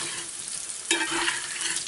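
Boiled, peeled and cut potatoes sizzle in a frying pan outdoors on a fishing trip, a steady crackling hiss that jumps louder partway through as they are stirred, close and without talk.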